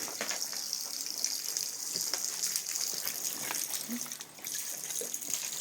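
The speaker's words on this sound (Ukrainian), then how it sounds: "І отут безкоштовно Нафтуся тече в річку." Steady rushing Naftusya mineral water pours and splashes continuously into a river outdoors in freezing winter at Skhidnytsia, a constant broadband gush with faint scattered sounds in the background.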